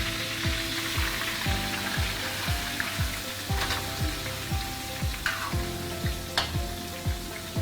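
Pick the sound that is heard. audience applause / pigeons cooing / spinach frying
spinach frying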